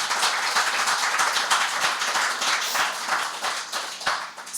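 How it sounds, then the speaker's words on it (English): Audience applauding the panelists at a talk, with brisk, dense clapping from a modest crowd, close and fairly loud throughout. "Please give our panelists a round of applause."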